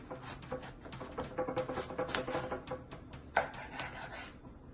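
A knife slices through eggplant on a board, making a steady run of soft rasping, scraping strokes close up, with no talking.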